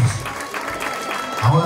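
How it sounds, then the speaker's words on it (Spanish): Audience clapping at a quinceañera party following a call to applaud the father of the girls, a steady spread of applause at moderate level with faint voices underneath. "Fuertes los aplausos para José Mendoza, que se escuchen esos aplausos"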